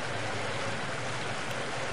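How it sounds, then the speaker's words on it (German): Flowing water pools and rushes in the video game Half-Life Blue Shift, a steady broad wash of streaming water that stays even and fairly close throughout, with no speech. "hier sammelt sich das ganze Wasser"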